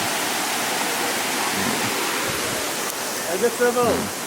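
Water overflowing a weir in Pai during the rainy season, a steady broadband rushing roar throughout, with a voice briefly heard near the end.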